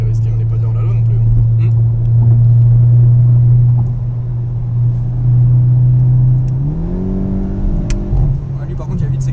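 A Volkswagen Golf 7 GTI Performance engine drones loudly at steady speed on a ring road, then revs climb as it accelerates, with a low rumbling tone throughout and faint voices inside the car.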